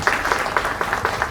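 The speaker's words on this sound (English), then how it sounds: "let's give a big round of applause for them" Audience applause in a concert hall at a violin arangetram, a steady, close wash of many hands clapping with irregular peaks throughout the short stretch.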